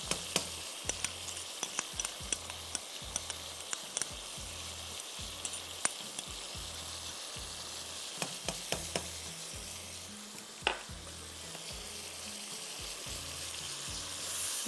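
Yogurt with onion and ground almonds or cashews sizzles steadily in a pan for a Mughlai chicken dish, a continuous close frying hiss broken by small pops and clinks, with no talking.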